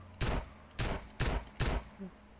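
Shotgun fire in GTA San Andreas, four evenly spaced punchy blasts about half a second apart, moderately loud and close, followed by a faint short sound.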